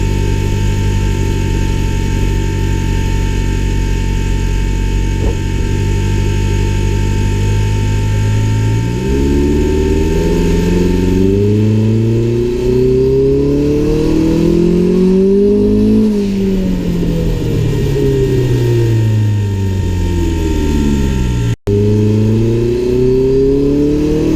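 A car engine fitted with a Tial blow-off valve revs repeatedly, its pitch climbing and falling in several loud sweeps, with one sharp break near the end and no talk.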